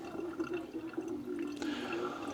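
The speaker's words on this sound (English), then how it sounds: "what's happening is the water's running straight through that valve, it's not holding water" Water runs steadily through a faulty pressure washer valve that fails to hold, a continuous close gushing and trickling with no voices.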